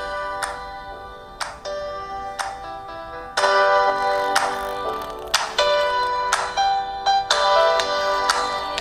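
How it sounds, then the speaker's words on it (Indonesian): Music played through the vibrating body and screen of a Vivo Apex 2019 phone used as its speaker: bright plucked, bell-like notes and chords at full volume, sounding thin and close, with no talking. "Dan Vivo Apex 2019 ini, bodinya, full bodinya, dan juga full layarnya bisa jadi speaker."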